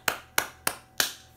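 Sharp single hand claps, four distinct claps spaced about a third of a second apart in a steady rhythm, close and moderately loud with no talk over them.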